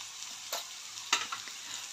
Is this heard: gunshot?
no